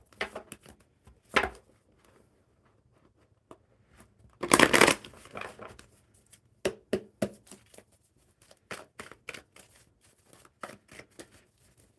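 A deck of oracle cards being shuffled in bursts, with sharp riffling flurries and quieter taps and slides between them, one long loud riffle standing out midway, close and with no talk.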